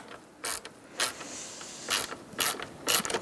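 Self-threading bolts on a 2012-2017 Hyundai Accent engine cooling fan assembly being tightened, heard as several separate bursts of ratcheting, creaking clicks spaced apart, close and fairly quiet.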